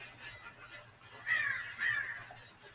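A bird caws twice in quick succession against a low background hum, fairly faint and a little distant.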